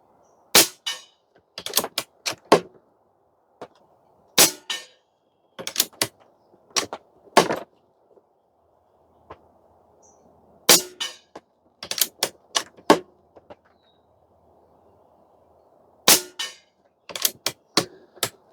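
A .25 caliber Barra 250Z air rifle fires slugs in sharp, close cracks, some single and some in quick clusters, separated by short quiet gaps with a faint background hum.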